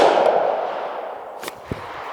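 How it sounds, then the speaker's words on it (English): A single unsuppressed gunshot from a Grand Power Stribog SP45A cracks out loud at the start and rings off into a long fading tail, with a couple of faint clicks near the end. "I needed to also just check and see how she shoots unsuppressed"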